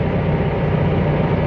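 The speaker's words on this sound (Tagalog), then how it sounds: "Yan, nag-on na naman ang aircon, ang ating compressor." A car engine idles steadily with its air-conditioning compressor engaged, giving a continuous low hum and drone at a constant level with no voices present.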